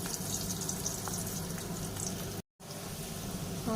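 Potatoes frying in a pan give a steady, crackling sizzle that runs throughout, broken by one brief silent gap, with no voices.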